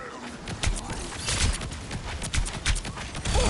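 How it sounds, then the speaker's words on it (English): Fireworks in a video game set off a busy run of dense cracks and pops, loud and close, with overlapping bursts and rumbling low booms filling the whole stretch. "Time for some fireworks."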